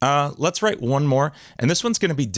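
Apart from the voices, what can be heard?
No everyday noises stand out.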